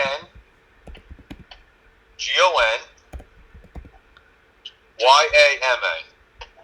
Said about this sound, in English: it came up as I started typing in here